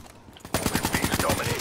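Rapid bursts of automatic gunfire from Call of Duty: Black Ops III beta erupt after a brief quiet moment, a fast steady rattle that continues loudly to the end.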